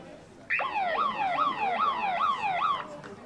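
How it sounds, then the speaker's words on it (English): A loud wailing siren rises and falls in repeated sweeps for about two seconds, then cuts off abruptly, marking the end of the third quarter at a club hockey game. "That is the siren for the end of the third quarter"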